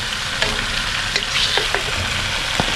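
Steady crackling sizzle of fish frying in hot oil, with a few sharp pops and faint clinks rising above the constant hiss.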